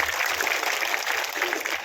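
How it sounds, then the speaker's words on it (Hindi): A crowd at a village Ambedkar Jayanti gathering applauds in welcome, a thick, continuous wash of clapping at steady volume, with a voice faintly mixed in. "जोरदार तालियों से स्वागत।"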